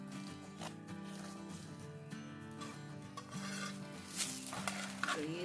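A saag paratha cooks in desi ghee on a pan, giving a quiet steady sizzle with soft scraping and clinks of a utensil against the pan.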